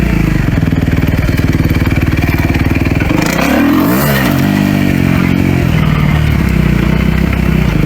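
A 250F dirt bike motorcycle engine roars loud and close for the whole stretch, its pitch climbing, dipping sharply at a gear change midway, then rising again as it pulls through the gears.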